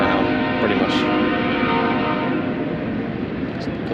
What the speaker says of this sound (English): that stupid train keeps honking